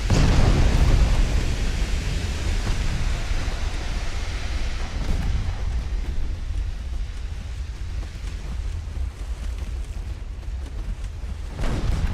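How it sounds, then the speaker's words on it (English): Torpedoes detonate against a ship's hull in the naval game Ultimate Admiral: Dreadnoughts, with a heavy rumbling boom that swells into a long, loud roar of low noise and then slowly fades. "Torpedoes detonated in the hull."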